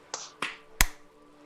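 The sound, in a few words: people clapping on a count of three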